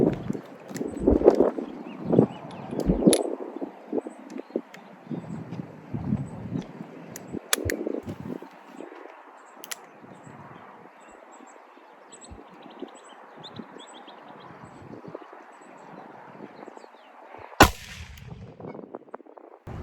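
A ported 6-inch Model 59 .41 Magnum revolver firing a 305-grain flat-nosed hard cast round into a hard barrier, heard as one sharp, loud outdoor shot near the end after a stretch of wind and handling noise.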